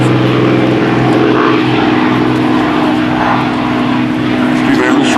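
Several military aircraft fly in a USAF Heritage Flight at the 2004 NAS Oceana Airshow, producing a loud, steady engine roar that fills the whole stretch, with a voice talking over it.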